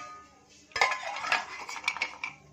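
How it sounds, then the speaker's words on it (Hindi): Crispy fried maida tea-time snacks tumble and clatter into a serving dish, a burst of bright crunchy rattling and clinks starting partway through and continuing in uneven bursts, close and fairly loud. "देखिए आवाज़ से ही पता लग रहा है ये कितने क्रिस्पी यहाँ पे बने हैं।"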